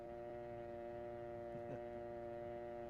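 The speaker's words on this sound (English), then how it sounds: "remove the receiver and listen for the dial tone" Continuous steady telephone dial tone from a lifted receiver, a flat sustained buzz-hum with stacked harmonics holding evenly for the whole stretch, with a faint click partway through.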